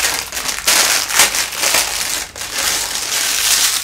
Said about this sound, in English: the foam itself, which I have in this plastic bag, and a pair of scissors. So let me first open the foam up.